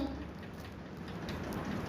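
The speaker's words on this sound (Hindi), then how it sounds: "अभी बारिश हो रही है" Rain falls steadily outdoors in Golaghat, a soft, even patter that is faint and continuous.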